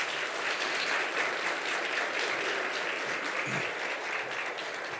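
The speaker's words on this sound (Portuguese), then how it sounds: "Quero que vocês recebam com uma salva de palmas." A church congregation gives a round of applause to welcome Pastor Bruno Brito, a steady, even roar of many hands clapping, moderately distant and continuous throughout.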